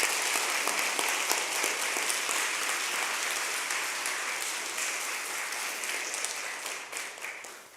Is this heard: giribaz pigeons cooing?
no